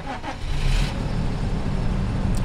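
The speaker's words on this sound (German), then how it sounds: "So, wir starten das Fahrzeug." A Fendt 700 Vario tractor in Farming Simulator starting up, with a loud, close engine crank and roar that settles into a steady, even idle hum.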